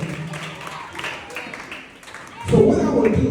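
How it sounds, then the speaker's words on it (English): Children at a Montessori nursery and primary school break into applause after a spoken request; the clapping swells suddenly near the end, full and close, right after talk. "And give him a round of applause too because he did good."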